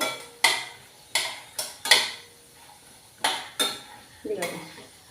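Several sharp metallic clinks and scrapes of a utensil against a bowl as fried peanuts are put into it, spaced irregularly, close up, with a soft rattle at the end.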